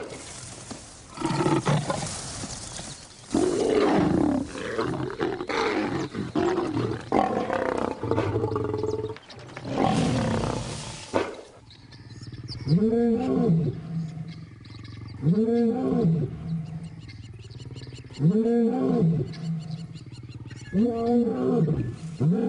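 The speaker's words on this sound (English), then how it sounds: "And as they roar their displeasure, the cubs scatter into the bush" Wild lions roar in the bush: harsh, rough roaring and scuffling at first, then a rhythmic series of five deep, loud grunting roars spaced a few seconds apart.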